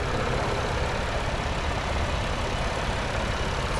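A 2019 Chevrolet Blazer RS, front-wheel drive, with its 3.6-liter V6 running smoothly at idle, a steady low rumble holding even and unbroken throughout with no voices.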